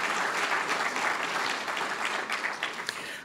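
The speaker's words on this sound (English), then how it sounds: "So let's just give them a round of applause." An audience gives a steady round of applause at a university distinguished lecture, with dense, even clapping filling the room for several seconds.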